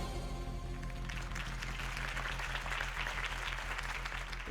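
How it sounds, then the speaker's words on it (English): Steady crowd applause follows a campaign speech in the video game Batman: The Telltale Series, a dense continuous clapping that swells after the first second over a low droning music bed. "If only Mr. Wayne, my campaign's largest backer, could have heard that applause"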